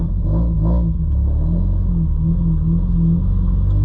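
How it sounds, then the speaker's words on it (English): Mazda Miata with a straight-piped exhaust rumbling loudly at idle, a deep continuous throb with a slight lope, close and unbroken for several seconds, with no voices over it. "This car is extremely loud, just for the reason that it's straight piped all the way back."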